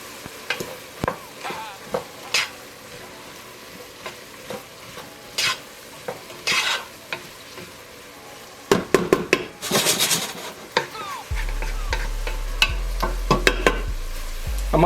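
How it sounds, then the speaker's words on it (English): Onions cook down in a pot for clam chowder, a continuous sizzle broken by scraping stirs and sharp clanks of a utensil against the pot, growing louder and busier toward the end. "we're gonna let that go down, or cook down, until those onions get nice and translucent"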